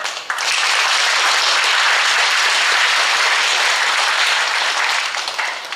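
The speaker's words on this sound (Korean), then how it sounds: "선교사님 나오실 때 우리 힘차게 박수로 환영해 주시면 감사하겠습니다" A church congregation gives loud, sustained applause to welcome a missionary, a dense, close roar of clapping that starts abruptly and holds steady before easing off slightly at the end, with no talk.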